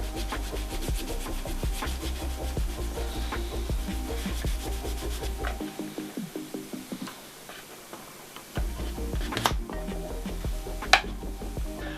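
A knife is stropped on leather and birch, giving repeated rhythmic rubbing strokes with soft ticking scrapes, close and fairly steady, with a brief quieter pause partway through.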